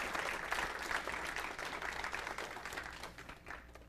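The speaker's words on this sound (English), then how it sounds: "Yes, you may applaud." Audience applause from a live lecture crowd, a steady wash of many hands clapping that stays fairly even and slowly thins toward the end.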